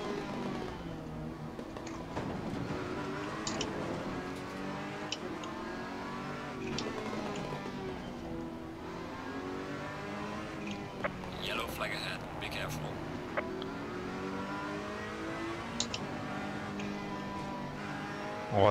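Race car engine in Assetto Corsa Competizione idling and revving gently under light throttle, a steady rising and falling engine drone running throughout beneath someone talking.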